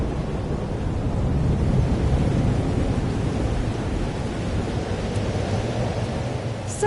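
Thunderstorm in the game Life Is Strange Double Exposure, heavy rain and a low rolling thunder rumble filling the space as a dense, steady roar that swells slightly, then eases, with no voices.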